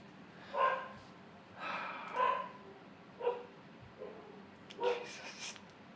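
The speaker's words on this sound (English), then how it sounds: "we might get some dog barking" A few short, sharp dog barks sound out in separate bursts, moderately distant, with quiet pauses and a low background hum between them.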